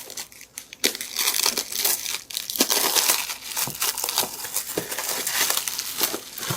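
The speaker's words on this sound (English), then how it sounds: "Where's the end piece so I can unwrap this?" Plastic packaging holding four knives is crinkled, torn and crushed up close in a busy, continuous rustling run with sharp crackles throughout, no voices heard.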